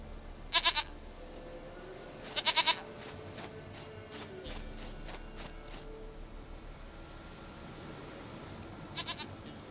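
A goat in The Witcher 3 gives several short, loud bleats in bursts near the start, around two and a half seconds, and again near the end, over a quiet game ambience.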